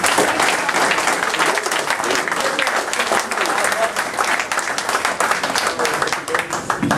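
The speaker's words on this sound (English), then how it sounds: "Please give another round of applause for Congressman Rick." Loud, sustained applause and clapping from an audience at a Republican Party political meet and greet, close and dense with some voices mixed in.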